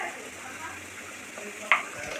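Spice masala for a potato curry sautéing in a pan, a steady soft sizzle with faint stirring and one brief sharp scrape near the end, no talking.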